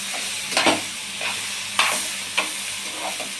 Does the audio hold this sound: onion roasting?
yes